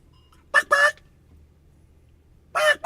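A voice imitates a rooster, giving a couple of short, loud honking crow-like bursts near the start and another near the end, separated by near silence.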